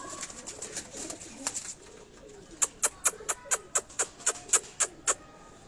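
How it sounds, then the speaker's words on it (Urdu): Pigeons on a rooftop give a run of soft cooing, then a quick series of about a dozen evenly spaced sharp clicks or claps, close and fairly loud. "اسی طرح اس کے آگے آپ یہ دیکھیں کبوتر"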